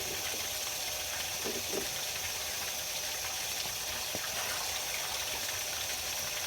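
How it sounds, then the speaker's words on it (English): A garden hose runs steadily onto the soil of a rose garden, giving a continuous, even hiss and gush of water throughout, with a few faint knocks in the background and no speech. "I'll water the ground."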